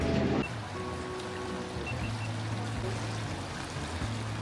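Rain falls over a river in Frankfurt, a soft continuous hiss and trickle heard from some distance, with a low steady hum beneath and no voices.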